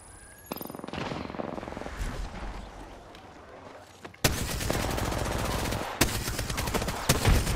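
Gunfire in the shooter game Apex Legends starts quietly, then breaks into loud, rapid automatic bursts with a few sharp single cracks near the end.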